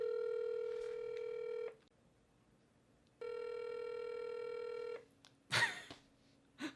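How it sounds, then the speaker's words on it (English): A telephone call placed to the Kiss FM radio studio line: two long, steady ringback tones separated by a pause, followed by a short, loud clatter and a softer click near the end, with no voices. "I am calling Kiss FM's studio line."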